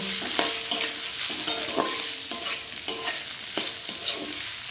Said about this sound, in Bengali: আমার মশলাটা ভালোভাবে ভাজা হয়ে গেছে এবার আমি আলুর সাথে তা মিশিয়ে নেব